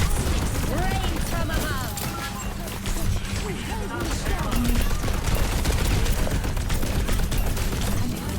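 Rapid bursts of heavy gunfire and mech side-cannon blasts crackle continuously, with mechanical clanks and impacts layered throughout a chaotic video game battle.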